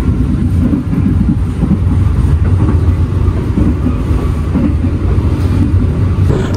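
Inside a moving train's new luxury dining car, a loud steady rumble of rail travel carries on throughout, with faint rattling and clatter from the carriage and no voices.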